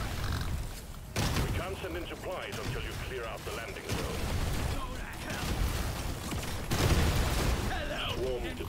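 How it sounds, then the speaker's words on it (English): Deep Rock Galactic: Survivor gameplay on Salt Pits with repeated explosions and rapid weapon fire, bursts of booming blasts in clusters with busy mechanical clatter between them, all fairly quiet in the mix. "The explosions,"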